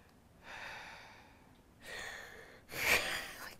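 A voice imitates the loud, pug-like breathing of a sleeper: three raspy, snorting breaths that grow louder, the last a harsh, wheezy gasp.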